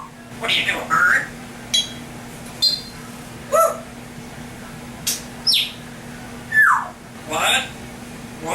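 An African grey parrot gives a string of short chirps, whistles and squawks in uneven bursts, close and fairly loud over a steady background hum, with no human talk.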